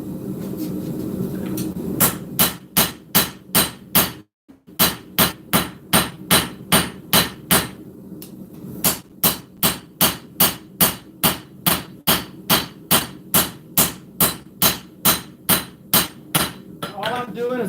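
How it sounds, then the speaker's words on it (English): Rounding hammer forging the bevels on the bottom half of a full integral knife blade, a rapid run of sharp metallic strikes in steady rhythm, close and loud, with one brief pause near the start. "I'm using the rounding hammer on the bottom half of the blade here"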